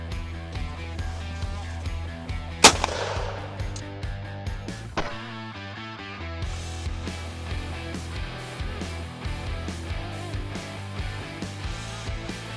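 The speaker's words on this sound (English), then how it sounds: "So let's do some proper shooting." A single loud shotgun report during clay target shooting, a sharp broadband crack with a trailing echo, followed by a duller thump and steady background music.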